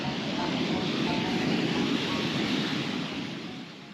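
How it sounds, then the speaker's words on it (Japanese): A waterfall in a mountain valley fed by snowmelt gives a loud, steady, broadband roar of rushing water that holds throughout and eases slightly at the end. "歩みを進めていくと轟音とともに滝が現れます。"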